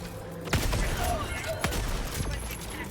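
A sentry turret in Helldivers 2 fires rapid bursts of gunfire, dense crackling shots with a couple of sharper booms, amid busy battle noise and faint voices.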